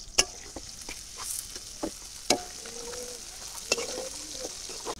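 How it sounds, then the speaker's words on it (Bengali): Chopped onions sizzling in hot oil in a wok, a continuous crackling fry broken by several sharp clanks and scrapes of a spatula stirring against the metal. "পেঁয়াজ কুচি দিয়ে দিলাম।"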